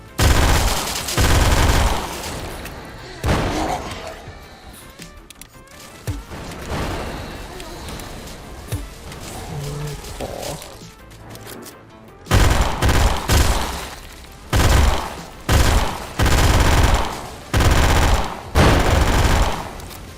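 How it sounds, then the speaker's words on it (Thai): An MG42 machine gun fires in the video game Those Who Remain, with loud sustained bursts of rapid gunfire broken by short pauses and a quieter stretch in the middle. "ยิงแบบไม่คิดแป๊บๆไม่หมดละ ผมกดไปแป๊บๆมันจะหมดไปไหนละ แต่ปืนยิงมันจริง"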